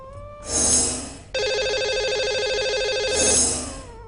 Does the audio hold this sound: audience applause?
no